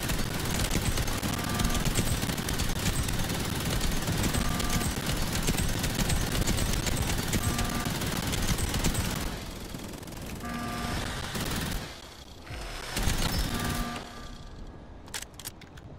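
Automated turrets firing in the sci-fi base-defense game Outpost: Infinity Siege, loud rapid machine-gun bursts in a dense continuous barrage that breaks into shorter separated volleys toward the end, no talking.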